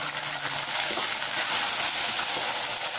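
Small onions crackle and sizzle steadily in hot oil in a pan, a dense continuous hiss with faint stirring for a village-style drumstick-leaf kara kuzhambu.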